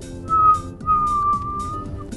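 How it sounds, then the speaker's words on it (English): A person whistles with lips pursed in an O shape, two short clear high tones with a brief gap between them, close and alone. "So, this is actually like whistling."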